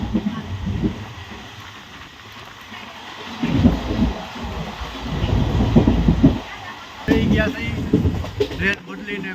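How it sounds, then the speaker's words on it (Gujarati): A passenger train pulls into a station, a continuous low rumble with rising and falling bursts of wheel and carriage noise, people talking nearby throughout. "આપણી ટ્રેન આવી ગઈ છે"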